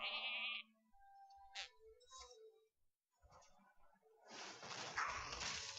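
A sheep bleats in the Hearthstone card game after a polymorph spell, short electronic game sound effects and a brief bleat mingling with quiet background noise and a louder burst of game audio at the end.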